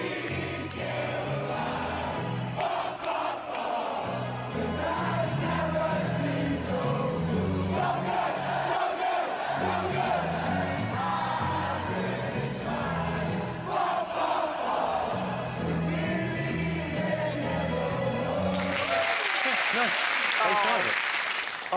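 A large crowd at a Red Sox game belts out a song together, a broad, loud chorus of voices with talk mixed in, ending in a sudden burst of applause.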